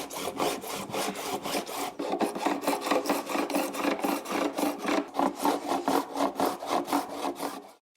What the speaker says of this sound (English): It's just a file held in an angle in a wooden block. You want to put a nice even bevel on the ebony from top to bottom.